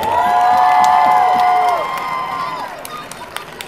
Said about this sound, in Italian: Un applauso ai nostri senatori a vita, i pifferi e tamburi di Andrate